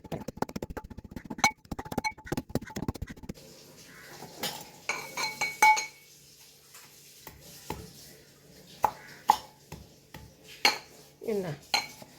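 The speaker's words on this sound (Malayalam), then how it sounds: "നമുക്കിതിനകത്തിട്ട് പൊടിച്ചെടുക്കാം." Roasted coconut is ground and pounded in a large metal uruli pan, making irregular metallic clanks, clinks and scrapes, with bursts of rapid knocking and quieter pauses between strokes.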